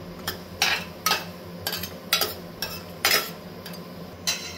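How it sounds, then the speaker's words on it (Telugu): Whole cumin, cinnamon, cardamom and cloves being stirred in hot oil for bagara rice, a utensil scraping and clinking against the pan in about eight distinct strokes over a low steady background hum, no voices. "జీలకర్ర వేసి పట్ట, యాలక, లవంగం ఇవన్నీ వేసి మిక్స్ చేసుకోండి."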